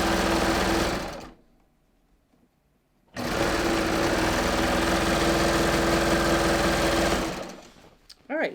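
A sewing machine runs at steady speed stitching lined leggings, with one pause of a couple of seconds before it resumes and carries on loud and close, then stops near the end.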